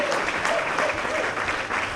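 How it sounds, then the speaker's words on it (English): Audience at an American Legion baseball state tournament applauds steadily for honorees, a dense wash of clapping from a crowd that holds evenly through the whole moment. "Give them a big round of applause."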